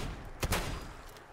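A loud shotgun blast in the video game Fallout 4 with a sharp crack and brief boom, then a quieter second shot, set against a steady low background hum.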